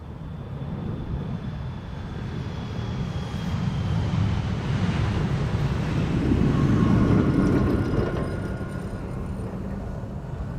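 A KLM airliner, flight 1177 bound for Stavanger, departs Amsterdam Schiphol Airport: a broad, loud jet roar swells toward the middle and stays heavy, heard from outdoors without speech.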